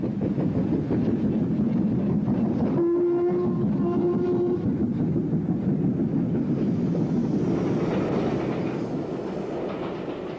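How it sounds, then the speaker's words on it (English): A train assisted by banking engines climbs the steep Lickey incline, a loud continuous rumble of wheels and engines passing close, with a brief horn-like tone midway before the noise slowly eases. "The leading train comes past the box as the signalman looks out to ensure that the complete train with its bankers"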